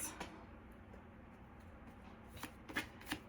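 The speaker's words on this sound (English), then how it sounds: "I'm going to pull a few more cards here." Tarot cards being shuffled and pulled, a few quick soft riffles and flicks, the crisp bursts clustering near the end against a quiet background.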